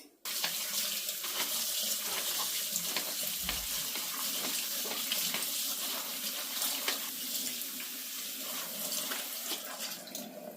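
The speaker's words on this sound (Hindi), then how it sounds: "इसी में डाल के एक ही बार में अच्छी तरह से धो के निचोड़ के फिर रखूँगी।" Steady running water from a kitchen tap into a sink as something is washed by hand, a constant close splashing rush with small sloshes and knocks, no talking.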